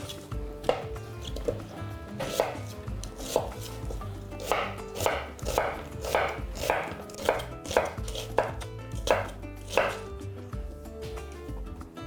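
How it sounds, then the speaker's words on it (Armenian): A knife chops onions finely on a cutting board while pumpkin purée soup is being made, roughly a dozen crisp, evenly paced knocks, close and clear, with no talking. "կտրատում ենք, մանր ենք կտրատում, որ արագ եփվի"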